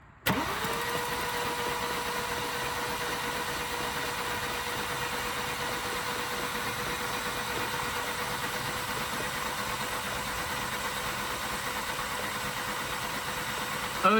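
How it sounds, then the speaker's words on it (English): A BMW E87 engine cranks over, starting with a sharp onset and continuing as a steady, even mechanical drone close by, with a voice heard briefly. "I'll ask my brother-in-law to turn the car over to crank it"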